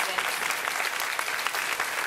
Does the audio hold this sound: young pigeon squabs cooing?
no